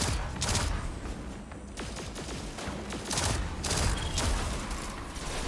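Sniper fire in the Destiny 2: Beyond Light video game, a run of sharp, loud shots cracking out every second or so over a dense, busy battle background, with no talk.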